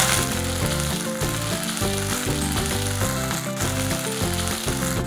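Garlic paste frying in a pan of oil already seasoned with five-spice, dried chilli, onion paste and ginger paste. A steady sizzle runs under prominent background music.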